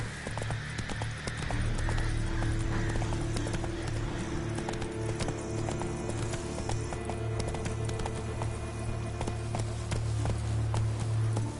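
Roach, a horse in The Witcher 3, gallops in a steady, continuous clip-clop of hooves that stays loud and close throughout, set over a low rumbling game background.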